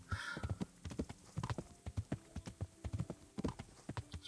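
Horse hooves thud in a quick, regular gallop in the medieval video game Kingdom Come: Deliverance, close and prominent throughout, with a faint snort near the start.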